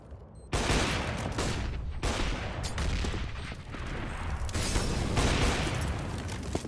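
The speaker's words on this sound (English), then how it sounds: "Shot at the guy right through the box." Sustained gunfire in the video game CS:GO as a player shoots an enemy through a box. The shots come as a dense, loud barrage of rapid cracks that continues for several seconds.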